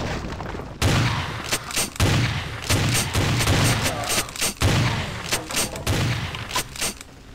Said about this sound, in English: Oh, they are shooting each other there.